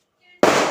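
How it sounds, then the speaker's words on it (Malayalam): A firecracker set off for the Vishu festival bursts once, close and loud, after near silence: a sharp bang with a short crackling tail, preceded by faint tonal sounds. "പടക്കത്തിന്റെ"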